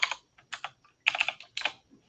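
Bursts of crisp keystrokes on a computer keyboard during a cybersecurity live stream, arriving in quick clusters separated by short pauses, close and clear with no talking.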